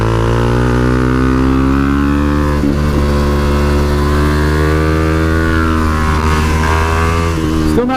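A supermoto motorcycle engine held under heavy throttle at Deals Gap, loud and close, its steady high-revving drone rising and falling slightly with gear and road changes, with no talk over it.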